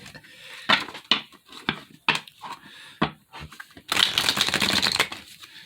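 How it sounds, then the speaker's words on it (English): Playing cards being shuffled up close, a series of sharp snapping riffles and taps followed by a longer burst of rapid fluttering as the deck is bridged, with no talking. "I'll just shuffle while I get my thoughts together."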